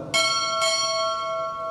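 A ship's bell sounds two bells at a Navy chief pinning ceremony: two clear metallic strikes about half a second apart, each leaving a long shimmering ring that fades gradually, with no voices.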